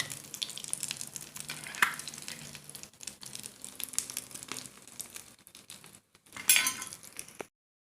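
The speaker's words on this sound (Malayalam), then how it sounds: "അതും കൂടി ഫ്രൈ ചെയ്തെടുക്കുകയാണ്." Egg koftas frying in a little oil in a pan, a soft sizzle under scattered clinks and scrapes of a utensil against the pan, with a brighter burst near the end.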